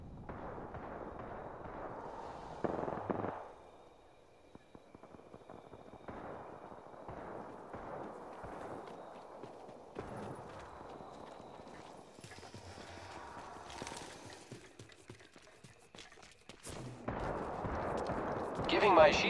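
Gunfire in the Apex Legends battle royale shooter during a ranked match: quiet, scattered shots and bursts, with louder flurries near the start and at the end.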